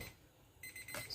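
A kitchen timer goes off while bagels are being made, giving short bursts of high electronic beeping that start partway through and stay fairly faint.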